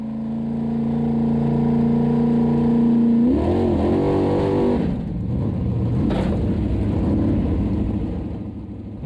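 A Formula Offroad car at an Icelandic competition in Hella pulls away, its loud, close engine holding a steady drone, then revving up sharply before easing into a rough, continuing roar.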